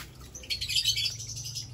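Caged breeding birds chirp in a short burst of high, thin tweets that swell briefly then continue softly over a low steady hum.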